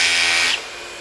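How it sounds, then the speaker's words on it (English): A Hilti TE6-22 cordless rotary hammer with a dust vacuum attached, a loud close whine that cuts off abruptly midway and leaves a quieter steady vacuum drone. "So you can hear the vacuum still running for collecting dust, but the drilling itself actually shuts off whenever the tool begins to over-rotate"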